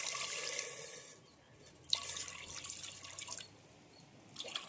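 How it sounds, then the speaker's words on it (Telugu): Water poured into a vessel in a home kitchen while sweets are being prepared, a faint trickling and splashing close by with a brief drip, fading in and out. "వాటర్ పోసేసుకోండి."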